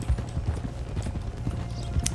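Horse hooves clip-clop at a steady trot in the Red Dead Redemption 2 video game, close and even, with no other sounds.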